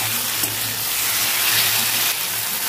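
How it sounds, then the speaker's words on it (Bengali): Chaltar (elephant apple) fries in hot oil with black cumin, giving a loud, steady broadband sizzle and hiss with no voices, close and continuous throughout. "এবার আমি চালতাটা ভালো করে ভেজে নেব"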